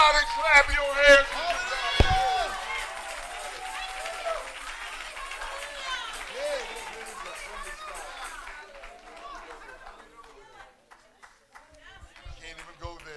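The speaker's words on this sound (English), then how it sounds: "Somebody clap your hands." A church congregation claps along during a Palm Sunday morning worship service, a busy crowd of hands and voices that is loudest early and thins out toward the end.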